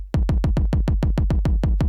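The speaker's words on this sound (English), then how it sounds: "So you can hear we got that kick all by itself" An isolated kick drum for analog-style house music thumps in a steady, fast four-on-the-floor pattern, about eleven punchy hits, loud and alone.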